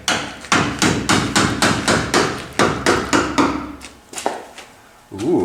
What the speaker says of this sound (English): take a hammer and a screwdriver, starting right here, and you're gonna just tap her in there